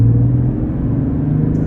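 A 2023 Chevy Silverado 1500 RST engine pulls at partial throttle, a loud, steady low rumble heard from inside the truck with no talking.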